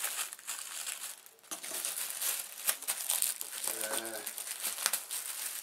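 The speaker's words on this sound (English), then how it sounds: "And like a plastic bag." Plastic packing bag from an FLSUN QQS 3D printer box crinkles and rustles steadily up close, with brief sharper crackles and a short low tone in the middle.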